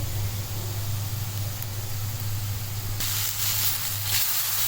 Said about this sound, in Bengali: এখন একটু পানি অ্যাড করে দেবো